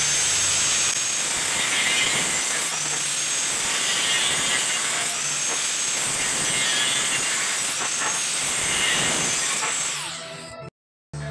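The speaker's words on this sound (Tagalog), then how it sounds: "So talaga ito tamang pagputol ng tubular." Tubular steel pipe being cut for a staircase build, a loud continuous harsh grinding hiss that runs steadily for about ten seconds before cutting off abruptly.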